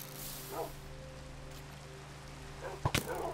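Skeleton in the Minecraft video game firing arrows, a pair of sharp, close twangs near the end over a low hum of game ambience, with a soft earlier swish.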